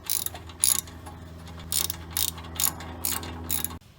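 Ratchet wrench tightening a new castle nut on a car's outer tie rod, with short bursts of close, crisp clicking repeated about seven times over a low background hum.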